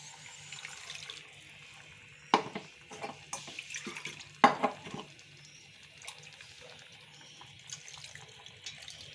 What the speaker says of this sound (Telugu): సో ఇప్పుడు మనం కావాల్సినంత వాటర్ యాడ్ చేసుకుందామండి.